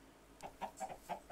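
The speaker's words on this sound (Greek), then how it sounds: "Κότες!" Chickens clucking in a blocky sandbox video game at nightfall, a run of short, close, moderately loud clucks repeating every fraction of a second with nothing else over them.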